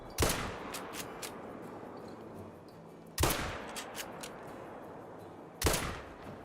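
Three sharp .22 Hornet rifle shots ring out in a goose hunting video game, evenly spaced about three seconds apart, each with a short fading tail.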